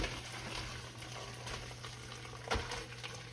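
Turkey stock poured through a chinois strainer into a pot gives a soft continuous liquid splash and trickle, with a brief louder clatter near the end and no voices.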